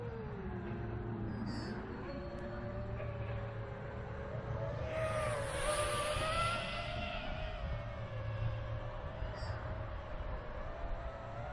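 An Eachine Wizard X220 V2 FPV drone cruises around with a continuous whining motor drone whose pitch rises and falls steadily, and it surges louder midway through.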